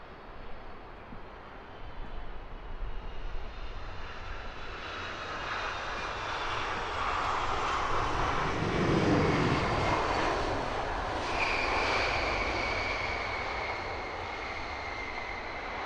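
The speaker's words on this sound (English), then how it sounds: "This is United 940 touching down from New York. She's a 767-400ER." Boeing 767-400ER airliner touching down at Heathrow at night, a broad, steady roar of engines that swells gradually as reverse thrust comes on, heard from a distance with no talk.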